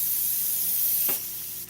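An airbrush sprays distilled water to flush out paint, giving a steady, close, loud hiss that runs about a second before dropping to a softer airflow.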